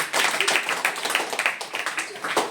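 Students in a classroom clapping loudly together, a quick run of close, irregular hand claps over a few seconds, with a faint murmur of voices beneath.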